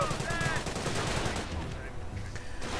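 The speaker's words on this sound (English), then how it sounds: "they're going to really be taking a deluge of fire from this Bren carrier and its Bren gunners" Rapid Bren machine gun fire from a Bren carrier and its gunners in a WWII strategy video game, dense crackling bursts at moderate volume with a voice speaking over it.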